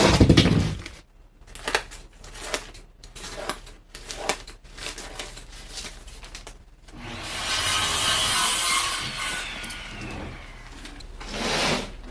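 A piece of lumber is sawn by hand in a hot prop shop, starting with a run of sharp rasping strokes separated by short gaps, then a longer sustained grinding cut and a final burst, loud and close, with no talking.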